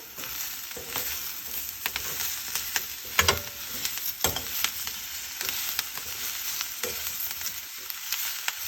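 Green pepper and onion fry in a pan with a steady crackling sizzle, punctuated by sharp scraping and clacking of a utensil as the mix is stirred; no one speaks.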